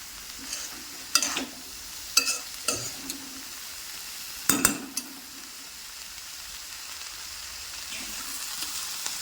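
Vanpayar (cowpea) thoran seasoned with chili powder is stirred and mixed in a pan: a few sharp scraping clinks over a soft, steady sizzle, with no talking.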